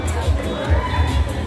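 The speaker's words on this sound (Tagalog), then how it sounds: "Palakpakan naman natin." Audience at a Manila male pageant (Finest Hunks) applauds contestants, a steady crowd clapping with cheering texture at moderate loudness, while the host's voice carries over it.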